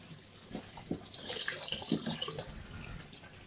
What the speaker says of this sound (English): I've just got this hose hooked up to my tap.